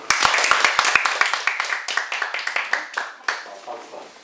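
A small audience at a coaching session claps. Sharp individual claps open the clip, then a light, uneven round of applause tapers off over a few seconds.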